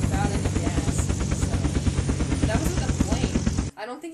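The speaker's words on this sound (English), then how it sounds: "With a helicopter." A helicopter in the video game Unturned thumps with a steady, rapid rotor chop, loud and close for several seconds before cutting off abruptly, with voices talking over it.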